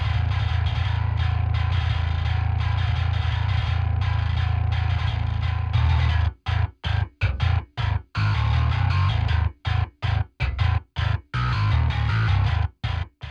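Eurobass 2 bass bus run through a Parallax distortion plugin with mid and high bands active, playing heavy riffs: a sustained grinding tone that breaks into rapid stop-start chugs with sharp silences between hits, loud and up close.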